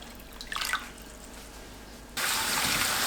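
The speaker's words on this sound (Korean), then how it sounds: "마른 미역이 충분히 잠길 정도로 물 넉넉하게 붓고 미역을 불립니다" Water is poured over dried seaweed (miyeok) in a bowl to soak it. A few light drips come first, then a loud, steady rush of pouring water starts suddenly and continues to the end.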